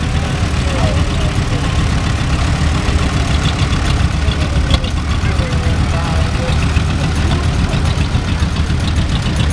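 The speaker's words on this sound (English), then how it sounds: "Here we have a Farmall Cup 1948" A 1948 Farmall tractor engine runs steadily through a tractor parade, a continuous loud low idle-like rumble with crowd noise and voices mixed throughout.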